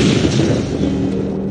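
A loud, sustained cartoon explosion in a chemistry classroom with a Bunsen burner, a dense booming rumble that fills the whole moment, heavy and close, without speech.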